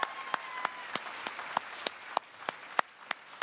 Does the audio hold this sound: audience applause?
yes